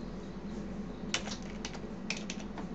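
Keystrokes on a computer keyboard while coding Roblox Lua come in a few short, quick bursts over a quiet room hum, close and fairly soft.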